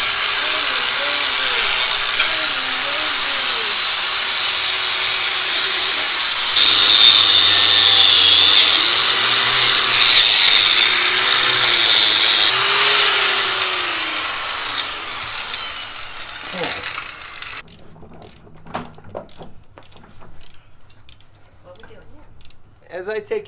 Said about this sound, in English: I want to clean this part of the frame real quick.